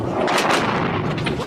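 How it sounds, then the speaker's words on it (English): Explosions and fire from an attack on an oil tanker in the port of Basra, Iraq, at night: a loud, dense run of booming blasts and crackling bursts, continuous and close, with no talk over it. "Explosions and flames lighting up the night sky."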